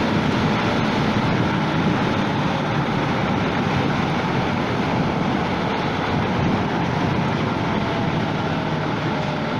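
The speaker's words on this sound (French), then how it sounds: "J'espère que vous n'allez pas trop entendre le vent là." Loud, constant wind roar buffeting the microphone while riding a Yamaha YZF-R 125 motorcycle, a dense rushing noise that runs unbroken through the whole stretch.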